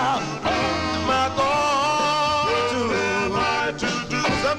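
A 1950s doo-wop record plays from a vinyl 45 with sustained harmonized vocals over a bass line, the melody rising and falling at moderate volume.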